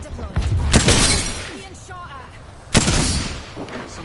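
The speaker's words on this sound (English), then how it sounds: "Some plunkers shooting at me." Gunfire in the Apex Legends battle royale game, with sharp shattering shot bursts at the start and again near the end and rattling impacts between, heard close and loud over a game voice.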